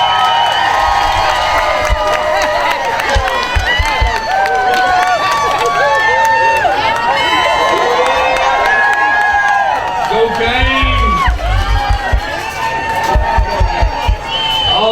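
A crowd at a local community event cheers and shouts for 6U rec cheerleaders, with children's high-pitched yells and voices overlapping in a loud, continuous din and occasional thumps.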